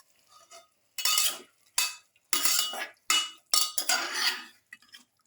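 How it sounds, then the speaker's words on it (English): Beef pieces are stirred together with pepper, garlic and carrots in a pan, giving several separate bursts of scraping, clinking and sizzling with short silent gaps between them. "Thoroughly mix in the beef pieces."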